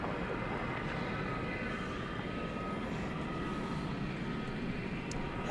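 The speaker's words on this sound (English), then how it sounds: "Flight 363 coming in from Madrid in España. It's an Airbus A330 300." An Airbus A330-300 airliner arrives at DFW Airport, a steady broad roar of jet engines heard from a distance at moderate level, unbroken for the whole stretch.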